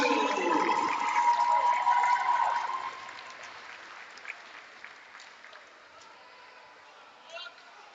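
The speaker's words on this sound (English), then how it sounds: "Let's have another round of applause for the Swampscott High School class of 2022." Crowd applause at a high school hockey game in Swampscott, loud and sustained for about three seconds before fading into scattered claps and faint crowd noise.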